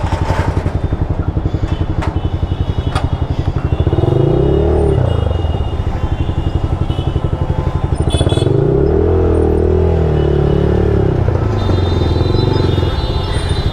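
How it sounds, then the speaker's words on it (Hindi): Heavy road traffic of motorcycles and cars rumbles steadily around a Yamaha MT15 motorcycle, with engines droning close by and rising in pitch as vehicles move through the congestion. "यहाँ तो एक्सट्रीम लेवल पे ट्रैफिक है"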